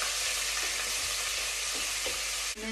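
Two onions fry in hot oil in a pan with cinnamon sticks and ground pepper, giving a steady, close sizzle with a few stirring scrapes and a brief clunk near the end.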